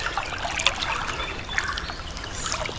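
Shallow creek water near the Union Canal trickles and bubbles steadily close by, with small splashes and gurgles and no voices.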